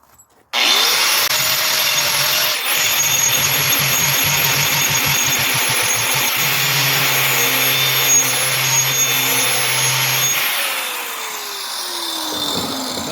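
A grinding wheel shapes a rattan sword, giving a loud steady whine and roar that holds for about ten seconds with some rising and falling grinding tones, then spins down.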